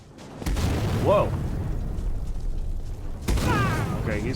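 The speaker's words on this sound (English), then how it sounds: "he's launching explosions at me" Two booming blasts in Skyrim Special Edition, one early and one near the end, under ongoing game sounds and a voice.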